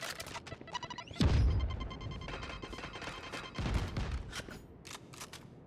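Gunfire in a first-person shooter game: dense bursts of rapid shots with heavy low booms near the start and middle, fairly loud, with no talking over it.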